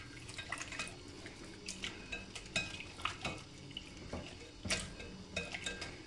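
Spoon stirring yogurt marinade with powdered onion, garlic powder, black pepper, chili and salt for chicken shawarma in a bowl, giving soft wet clicks and scrapes in an irregular rhythm, close and fairly quiet with no talking.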